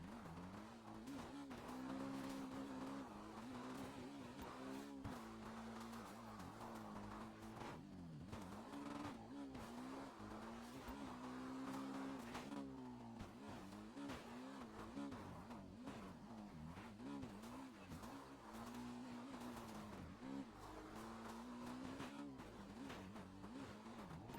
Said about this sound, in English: we're going to hop on this bike right here and we'll reconvene once I get to the communications tower